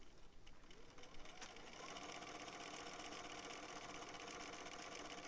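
A sewing machine stitches fabric along a half-inch seam allowance, its motor giving a continuous, fairly faint whir with an even rhythm after a short uneven start.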